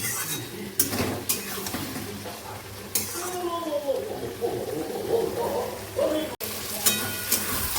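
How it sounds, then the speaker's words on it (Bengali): Curry being sautéed and stirred in a pan for a dried-fish dish, soft sizzling broken by scraping strokes and a few metallic clanks of the utensil, with a voice talking at times. "তরকারিটা ভালো করে কষিয়ে নিই"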